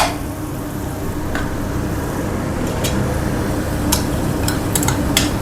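Raw mango chutney with chili powder sautéing in a pan, a steady close sizzle and frying hiss with a few light scrapes and taps of a spoon against the pan, no voices.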